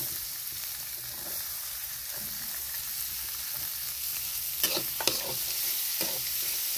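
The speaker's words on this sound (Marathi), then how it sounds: "आता आहे ना यामध्ये कांदा टाकते" Onion hits hot oil with crushed garlic already fried golden in a home kitchen, producing a steady close sizzle with occasional stirring scrapes and a few sharper clinks near the end.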